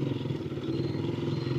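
Steady, loud road noise from a motorcycle running on small front and rear tires over a bumpy road, a dense rumbling clatter with no pauses and no voices.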